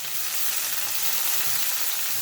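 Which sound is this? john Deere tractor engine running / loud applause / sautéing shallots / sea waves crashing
sautéing shallots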